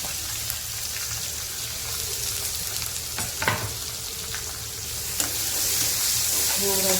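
Sliced onion and slit green chillies fry in a pan with a loud, continuous sizzle, broken by spatula scrapes and stirring bursts that swell toward the end.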